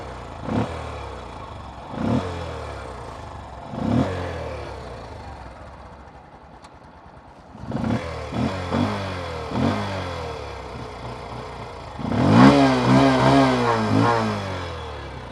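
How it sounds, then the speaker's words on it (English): A Bajaj CT 125 X motorcycle's exhaust gives a grunty, throaty note, revved in several short bursts with pauses between, then held in longer, louder revs near the end. "it has the typical Bajaj grunty, throaty kind of a note"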